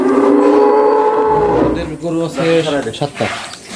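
Cows of several breeds on a dairy farm; one lets out a long, loud low moo nearby, followed by people talking.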